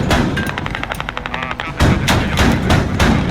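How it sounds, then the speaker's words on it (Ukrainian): Loud, rapid bursts of enemy machine gun fire in a video game crackle in steady rhythm, followed by heavier booming shots, up close with no talking. "Це ворожий кулемет стоїть."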